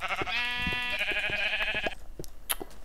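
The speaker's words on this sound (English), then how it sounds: "sheep" A sheep in the video game Minecraft lets out one long wavering bleat, loud and close, followed by quieter clicking game sounds.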